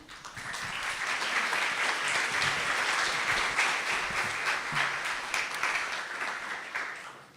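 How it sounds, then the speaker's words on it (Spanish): An audience applauds a speaker at a conference event on teleworking, steady, fairly soft clapping that swells quickly, holds evenly and fades at the end, with no talk over it. "El aplauso para ella."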